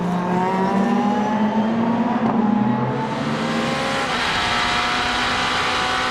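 Race cars with 2-litre 255-horsepower Honda VTEC engines racing at Spa-Francorchamps during a Supercar Challenge round, a loud continuous engine roar with rising and falling revs as the cars pass close by.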